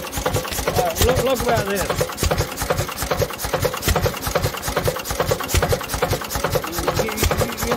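An International Type M 3 HP stationary engine with a stuck crankcase breather runs close by, a loud, fast, even chuffing beat that stays steady throughout, with someone speaking briefly over it.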